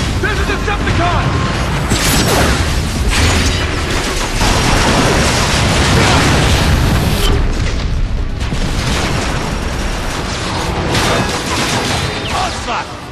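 Dense, loud explosions of shells in Transformers Fall of Cybertron, rolling booms and crashing bursts for over ten seconds, with bursts of gunfire and mechanical clatter mixed in.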